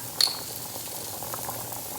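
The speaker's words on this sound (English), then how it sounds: "The pasta's boiling." Pasta boiling in a pot of water on a home stove, heard close up. A brief clink near the start gives way to a steady, soft bubbling that continues alone.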